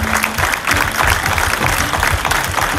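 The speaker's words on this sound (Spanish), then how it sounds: "aplauso para Shandy" A crowd at a gospel concert applauds: dense, sustained clapping that fills the space with a steady roar of hands throughout.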